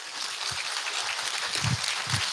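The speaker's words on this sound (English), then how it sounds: "I think I deserve a round of applause for that." An audience claps steadily through a talk-show style conversation, a dense wash of applause holding at even loudness with no voice over it.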